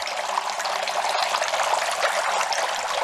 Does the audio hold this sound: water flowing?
yes